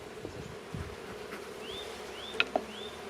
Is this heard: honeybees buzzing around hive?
yes